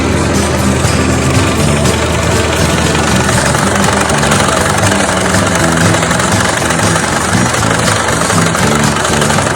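A 1956 Farmall 200 tractor pulls a McCormick-Deering FC-21 sickle mower through June hay, its engine droning loud and steady with clattering cutter-bar vibration and no talk.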